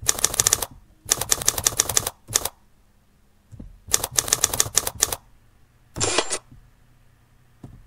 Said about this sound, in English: Now it will stop sound like a typewriter.